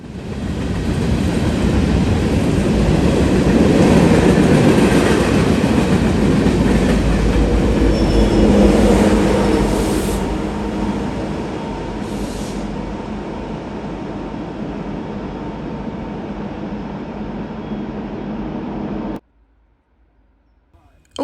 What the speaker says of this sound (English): The curve provides a nice elevated view of trains rolling uphill.